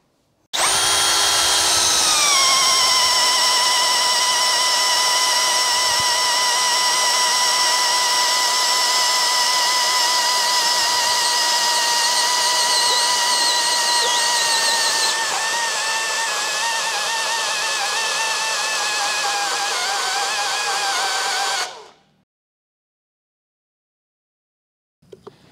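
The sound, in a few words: NRT PRO DC brushless drill running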